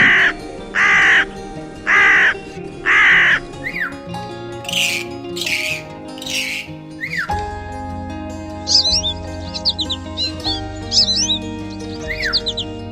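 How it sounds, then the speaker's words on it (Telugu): Four loud, harsh crow caws in a regular rhythm, followed by other shorter bird calls and chirps. "తర్వాత కాకి"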